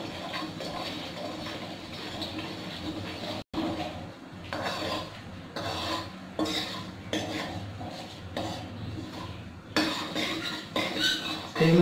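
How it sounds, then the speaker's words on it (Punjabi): Spices with salt and red chilli being roasted in oil and stirred for a raw mango chutney, heard as repeated close scraping and clinking of a spoon against the pan with a soft sizzle underneath and one brief pause. "ਮਸਾਲੇ ਨੂੰ ਚੰਗੀ ਤਰ੍ਹਾਂ ਭੁੰਨ ਲੈਣਾ ਤੇਲ ਵਿੱਚ।"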